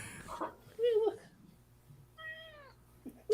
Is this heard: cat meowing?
yes